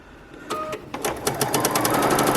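A sewing machine stitches quilt fabric for a Dresden Plate table runner, opening with a few short bursts before settling into a loud, rapid, continuous close-up whir of needle strokes.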